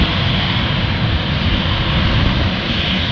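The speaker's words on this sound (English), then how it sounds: "Didn't even stop for takeoff, he's going straight on it." An airplane takes off without stopping on the runway, a loud, steady roar of engine noise that stays broad and sustained throughout, with no voices.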